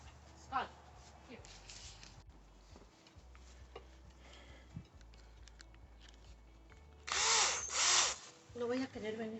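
Power drill boring a hole for a chain link gate lock, a brief loud whirring burst near the end after quieter handling noises and scattered voices.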